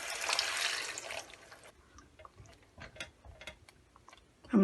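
Half a cup of water poured from a small 156 ml tin into a pan for haandi kabab, a steady splashing pour for about two seconds followed by scattered drips and small clinks, close and alone.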